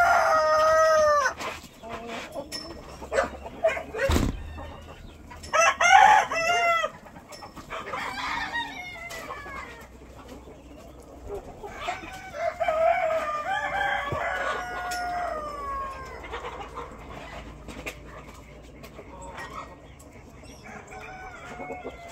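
Chickens cluck and a rooster crows repeatedly on a rural homestead, with several overlapping crows near and farther off over a steady farmyard background, and no voices present.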